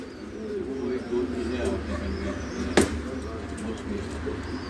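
Golden pair of breeder pigeons cooing at a home loft, soft low repeated coos close by with one sharp clack midway, under someone talking.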